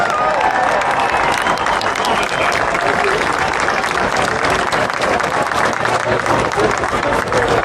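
A large racecourse crowd at the Aintree Grand National applauds trainer Willie Mullins, with loud, dense clapping sustained evenly throughout at close range.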